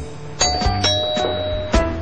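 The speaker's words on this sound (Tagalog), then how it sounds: "Tumunog po yung doorbell." A doorbell rings several times in quick succession, clear bright chime tones on a quiet indoor background, close and loud.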